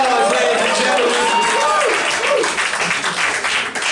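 A comedy club crowd at a roast battle breaks into applause, a sustained broadband clatter of many hands with voices and whoops rising over it before the clapping thins out toward the end.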